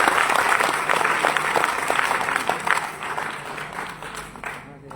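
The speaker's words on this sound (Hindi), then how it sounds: "जोरदार तालियां।" Loud clapping from a seminar audience in Delhi, steady for several seconds before thinning out and fading near the end.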